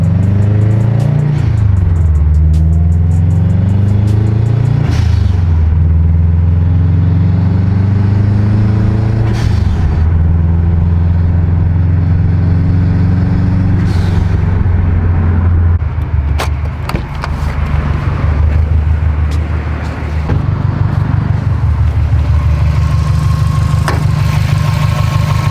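Freshly built Subaru STI engine fires up for the first time and runs throughout, a loud, steady idle with deep harmonic rumble, a few throttle blips rising in pitch early on, then settling into a rough, even idle close by.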